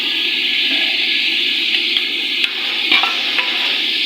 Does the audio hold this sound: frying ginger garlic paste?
yes